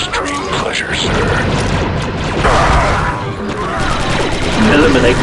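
Blaster fire in the Star Wars Republic Commando video game, with dense, overlapping shots, crashes and mechanical clatter that run continuously over a busy battle din, and voices speaking throughout.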